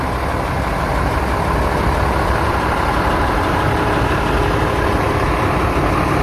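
A heavy railway work train engine rumbles steadily at close range, a continuous low drone as it moves over newly joined track on the Jakarta–Bandung high-speed rail line.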